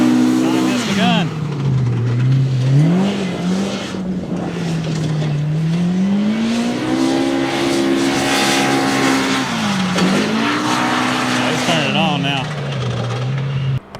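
A Polaris RZR Pro R UTV tears through a timed hot lap, its engine droning loud and close with pitch rising and falling through shifts and turns, sustained for the whole stretch.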